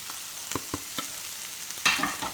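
Chicken pieces coated in spices fry in a pan, with a steady close sizzle broken by several sharp stirring scrapes and a louder scrape near the end.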